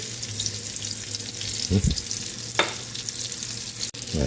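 Eggplant omelette (tortang talong) frying in a pan, a steady close sizzle throughout with a couple of brief scraping stirs partway through.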